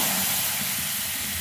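Egg curry mixture poured into a hot pan, giving a loud continuous broadband hiss and sizzle that holds steady throughout, with no speech.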